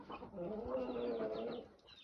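A mother hen with her chicks in a hobby coop gives soft, low clucks that run for about two seconds, faint and close, with no voices over them.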